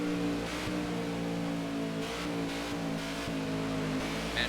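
Race car engine in the NASCAR '15 video game, a steady loud droning roar with a constant harmonic hum and slight pitch wavers, held throughout with no talking.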